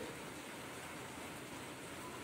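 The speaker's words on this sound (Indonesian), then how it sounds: "di jalan hujannya masih rintik-rintik" Light drizzle falls on a street, a steady, even hiss of soft rain without gaps or distinct drops, continuous and moderately faint throughout.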